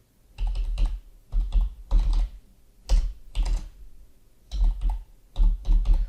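Bursts of loud, close keyboard typing while VBA code is entered in Excel, clattering groups of keystrokes with deep thumps, separated by short silent gaps and with no talking.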